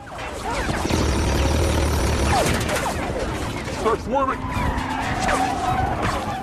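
Car racing through a film chase scene, engine roaring loudly as tires screech and skid in long squeals, with brief bangs and movie sound effects layered on top.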